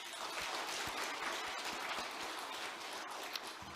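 During a special dawn prayer service, a church congregation gives a round of applause, moderately quiet and steady across the room.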